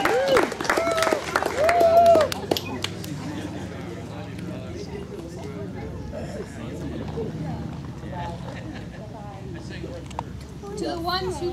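An audience applauds and snaps fingers for a poet at a small band performance, with brief clapping under a voice at the start, then softer scattered snapping and murmuring.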